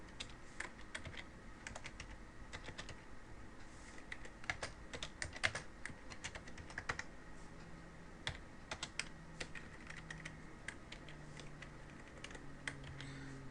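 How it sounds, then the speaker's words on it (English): Typing on a computer keyboard while writing Python code: a steady, quick run of soft key taps, fairly faint and close, continuing throughout without speech. "I think my typing is really bad today."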